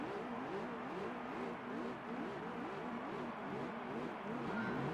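A race car engine in Gran Turismo 3 revs repeatedly in a rising and falling cycle, a steady droning whine that swells and dips without pause, moderately loud with no talk.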